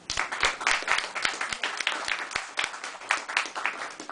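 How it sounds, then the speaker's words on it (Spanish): Applause at a literary and arts café evening, a small audience clapping in a room with a few sharp distinct claps standing out from the steady patter. "gracias por el aplauso"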